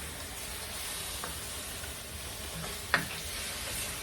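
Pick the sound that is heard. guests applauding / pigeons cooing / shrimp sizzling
shrimp sizzling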